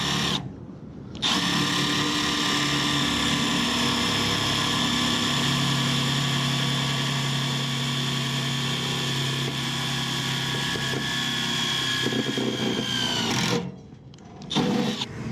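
A power drill backs a worn self-tapping screw out of a blower wheel housing, a continuous high whine running loud and close for about twelve seconds, with brief stops at the start and end.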